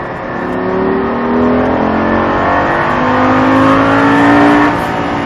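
A Lamborghini Gallardo accelerates hard on a race track during a driving course, its engine note climbing steadily in pitch as revs build, loud and continuous from inside the car with no gaps.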